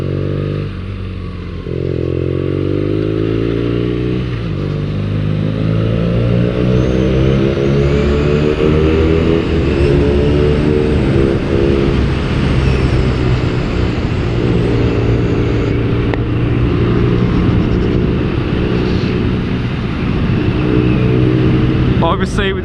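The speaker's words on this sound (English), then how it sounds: "BMW 9T. Look at this beast, look at this motor. Ooh, she's lumpy. Oh, sounds good." BMW R nineT motorcycle engine idling on stock pipes, a lumpy, throbbing low rumble with steady pulsing, close and loud, while someone speaks over it throughout.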